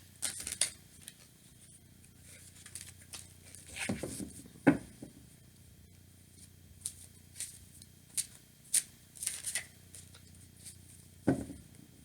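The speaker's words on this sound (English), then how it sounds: "I'm shuffling the deck" A deck of tarot cards shuffled by hand, with soft intermittent riffles and papery flicks in short bursts, close and fairly quiet with no talking.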